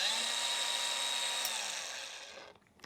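A DeWalt DCG410VS cordless variable-speed angle grinder runs at a steady high whine for about two and a half seconds, then cuts off and winds down abruptly, with no talking.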